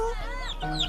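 Hens and chicks cluck and cheep in a short burst, with thin high peeps layered over lower clucking, close and steady for under a second.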